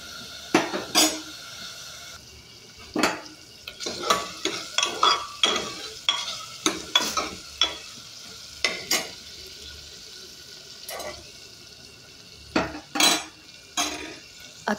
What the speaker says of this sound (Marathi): टोमॅटो आणि कांदा दोन्ही पण लालसर होईपर्यंत परतायचा आहे.